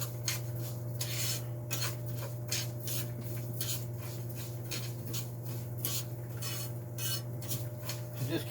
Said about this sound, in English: Just keep stirring it until it browns.